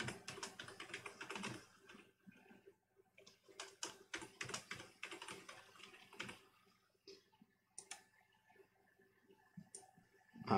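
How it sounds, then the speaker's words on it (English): Rapid bursts of keyboard typing, clattering keystrokes in uneven runs with short pauses between them, close and fairly quiet, with no talking. "that was literally typing in my Google username and my Google password"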